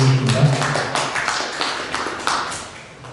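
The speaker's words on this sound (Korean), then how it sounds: "그 전에 두 분께 큰 박수 부탁드리겠습니다" Applause from an audience at a Buddhist studies academic conference, honoring two presenters: a steady patter of many hands clapping at moderate distance, holding throughout with a faint voice near the start.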